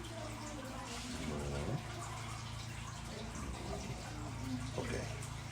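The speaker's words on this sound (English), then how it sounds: "Let's put some water in there." Water is poured into a container already holding oil for a homemade water volcano experiment, giving a steady splashing rush throughout while excited voices briefly cut in over it.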